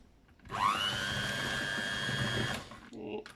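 A kitchen appliance starts up with a rising whine and whizzes carrot cake batter of eggs and oil in a loud, steady hum for about two seconds before cutting off, followed by faint handling noise.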